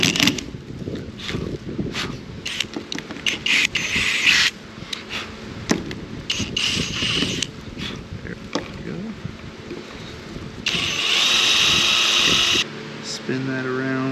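A power drill driving screws through metal into wood while rebuilding a pontoon boat, with bursts of whirring motor, pauses and a longer steady run near the end, under intermittent talk.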